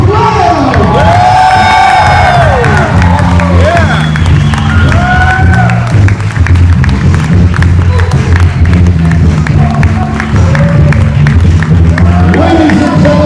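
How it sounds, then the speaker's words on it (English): Wedding guests at a reception clap, cheer and whoop loudly for the bride and groom in a continuous, close crowd roar, with music running underneath. "clap your hands and stop your feet for our bride and groom"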